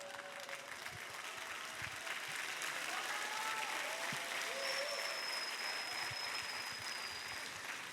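A crowd at a Korean church summer camp claps together in a soft, continuous patter that stays fairly quiet and even throughout, with faint whistle-like tones drifting over it.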